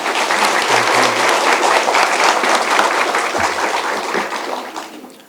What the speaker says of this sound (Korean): 큰 박수로 총장님을 맞이하여 주시기 바랍니다